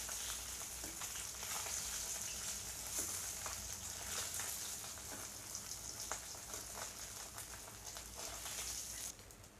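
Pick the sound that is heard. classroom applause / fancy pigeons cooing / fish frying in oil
fish frying in oil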